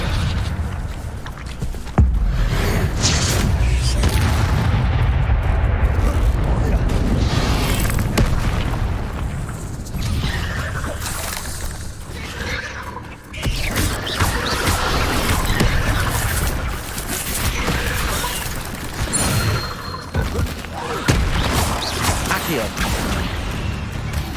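Spells and explosions go off in Hogwarts Legacy, a fantasy video game. Loud booming blasts and crashing magic effects come one after another under game music, while a voice calls out spell names.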